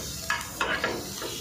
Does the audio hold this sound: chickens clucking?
no